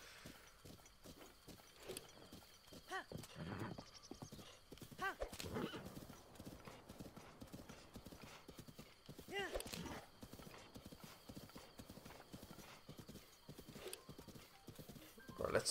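Horse galloping in the video game Breath of the Wild, continuous clip-clop hoofbeats at close range with occasional whinnies, accompanied by a voice talking.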